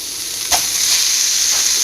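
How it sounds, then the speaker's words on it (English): Meat frying in a pan gives off a steady, loud sizzle with a faint stirring scrape near the start, heard up close with no talking. "we need to get this meat cooking"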